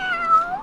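A cat gives a single drawn-out meow, close and clear, with a slight upward bend at the end.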